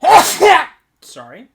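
A sneeze bursts out loud and close in two quick explosive blasts during a film review discussion, followed after a short pause by a brief spoken apology.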